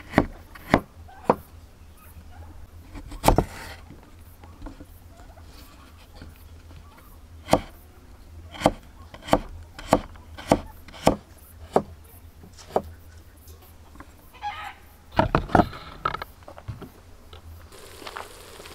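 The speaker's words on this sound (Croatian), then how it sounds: "Izrežem jednu malu mrkvu sitno." A knife finely chopping a small carrot on a wooden board for chicken paprikash: irregular sharp, close taps, some in quick runs and others spaced apart, over a quiet kitchen background.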